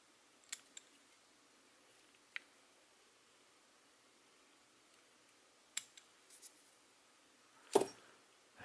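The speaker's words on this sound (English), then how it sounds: "I'm going to reach in here and cut off all the butt ends without cutting the leader and without cutting my thread." Small scissors snip off the butt ends of materials at the head of a hand-tied trout fly, a Great Red Spinner pattern from an 1892 book, giving a few sparse, crisp, close snips in a quiet room.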